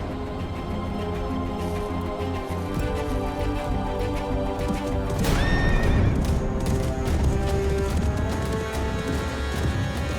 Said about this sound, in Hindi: ये तो इराकी घोड़ों की ही निनाट है